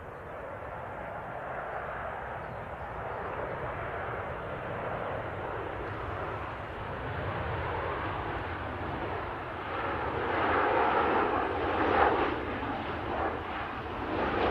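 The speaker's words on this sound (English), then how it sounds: "the next aircraft in is Ryanair. Coming in from Oslo, 737." A Ryanair Boeing 737 inbound from Oslo, its jet engines giving a steady broad roar that swells slightly toward the end, heard at moderate distance with no talk.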